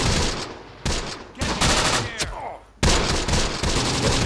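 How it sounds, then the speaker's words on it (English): Gunfire in the World War II tactics game Close Combat: The Bloody First, with dense, loud bursts of shots and machine-gun fire broken by short gaps, sounding like a sustained firefight. "Getting shot at further away now."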